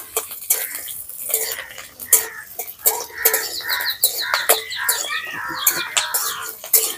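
Onions and garlic are stirred in a pan with light scraping and clinking of a utensil, close and intermittent, while birds chirp faintly in the background throughout.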